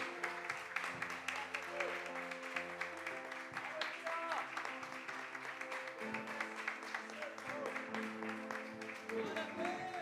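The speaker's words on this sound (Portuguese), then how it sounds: "Vamos aplaudir ao Senhor mais uma vez?" A church congregation applauding with steady, dense clapping that continues throughout, mixed with voices and tonal sound in the background.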